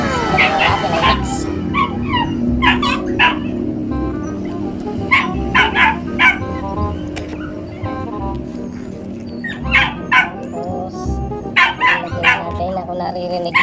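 Several pet dogs bark, yip and whimper excitedly at feeding time, with sharp repeated barks over a continuous background of whining and a person talking.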